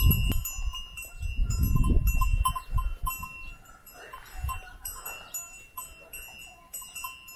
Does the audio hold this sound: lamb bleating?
yes